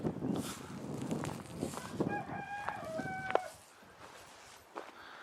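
A rooster crows a couple of times at a moderate distance amid chicken clucking and general outdoor background noise on a morning in Cockfield, England.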